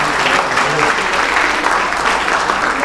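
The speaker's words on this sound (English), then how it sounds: "Let's give another round of applause for PWA." A large audience applauds for the Philippine Women Association at its 36th anniversary pageant opening ceremony, a dense, steady roar of clapping that fills the whole stretch without pause.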